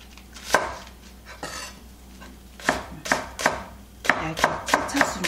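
A knife chops green onion on a cutting board in sharp, close knocks, a few spaced strikes at first, then a quicker run of chops toward the end; no voices.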